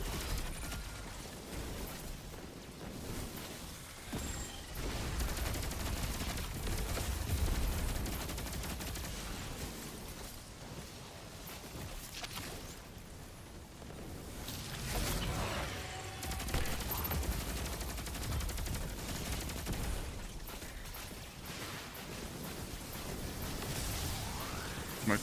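Gunfire from two weapons in Destiny 2 rattles in repeated bursts and volleys over a dense game soundscape, loud and sustained throughout.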